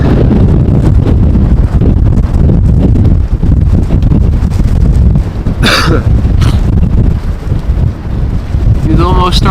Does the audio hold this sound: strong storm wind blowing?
yes